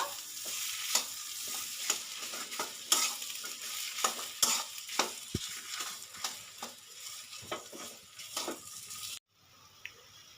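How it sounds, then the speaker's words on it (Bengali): Potato stirred into a frying pan, with repeated light scraping strokes of a spatula over a steady hiss of hot oil, ending abruptly into near silence. "এবার দিয়ে দেবো আলু। আর সুন্দর করে আলুটা আমি নেড়ে নেব।"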